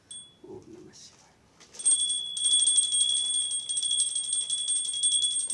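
A hand bell is rung continuously during a Hindu puja for the serpent deity, a bright, steady ringing that starts after a short pause with soft voices and murmured prayer at the beginning.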